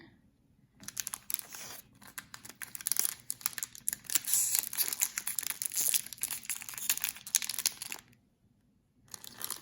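A Magic: The Gathering Core 2021 booster pack wrapper being torn open, sharp crinkling and crackling foil close up, dense and continuous for several seconds between brief quiet pauses.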